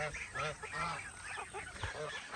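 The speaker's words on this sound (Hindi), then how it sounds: "ये हमारी प्यारी प्यारी सी बतखें" Pet ducks in a storm-damaged yard, heard as repeated nasal honking quacks close by, continuous over a steady background hiss.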